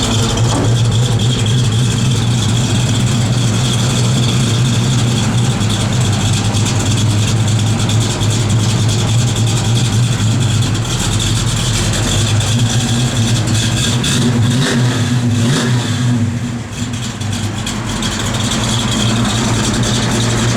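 A 1969 Dodge Dart GT engine idles loud and close with a deep steady rumble and slight rattle, then the revs shift briefly near the end.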